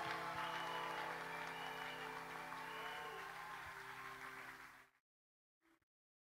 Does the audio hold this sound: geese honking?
no